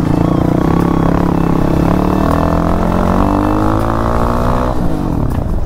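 A motorcycle is ridden on a road, its engine droning loud and close, pitch rising and shifting as it accelerates and changes speed.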